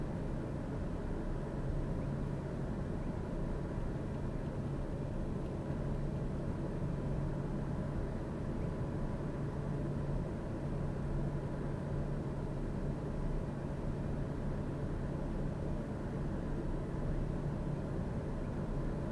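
A TBM 930 turboprop in Microsoft Flight Simulator 2020 powering up for takeoff, producing a steady, unbroken engine drone with a low hum that holds at an even level throughout, with no voices.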